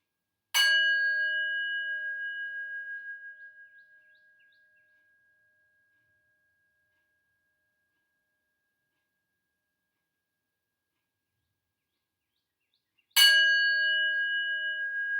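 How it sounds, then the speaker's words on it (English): A meditation bell rings during yoga breathing practice: one clear, resonant strike that slowly fades into silence, followed much later by a second strike, with no voices. "allow the sound of the bell to permeate all the cells in your body"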